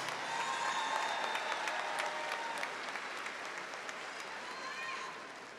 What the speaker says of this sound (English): Let's give our speaker another round of applause.